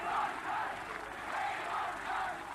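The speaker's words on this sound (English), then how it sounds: "The crowd, sensing that there might be something going on, was screaming and yelling" Motor racing grandstand crowd at a Grand Prix roaring and chanting in steady waves, a dense, continuous wash of many voices heard from a distance with no single voice standing out.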